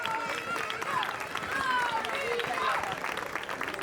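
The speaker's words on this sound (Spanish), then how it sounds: "María, forte aplauso para ela." Audience applause for a singer at the Canta con Ames 2023 contest, a steady wash of clapping lasting a few seconds, with a voice speaking over it.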